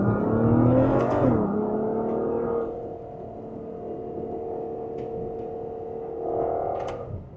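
A Ferrari FF V12 engine revs hard in first gear and climbs in pitch, then settles into a steady drone before surging again, loud and close.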